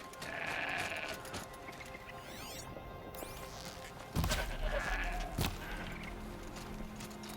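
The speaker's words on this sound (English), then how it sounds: "That's a goat." A goat bleats within the video game Horizon Zero Dawn, with wavering cries rising over ambient outdoor game sound, a couple of soft thuds, and the animal calls repeating at moderate distance.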